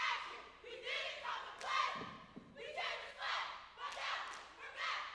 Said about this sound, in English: And here's the cheering now.